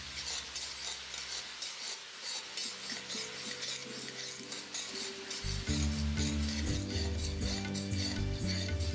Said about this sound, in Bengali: এবার এই পেঁয়াজটা আপনারা ততক্ষণ ভেজে নিন যতক্ষণ এটা একটু লাল লাল হয়ে আসছে।